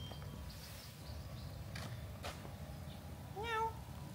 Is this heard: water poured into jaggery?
no